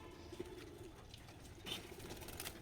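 Pigeons kept in a backyard loft with paired birds give soft, low cooing notes near the start, then quieter rustling and faint calls in a calm outdoor setting.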